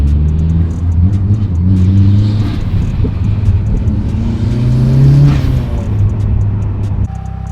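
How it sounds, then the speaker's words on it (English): Turbocharged 6.2 car engine running at 80 PSI boost, a loud, close, continuous roar whose pitch climbs steadily as it accelerates, with no talking over it. "Super, super stoked with how this car is running."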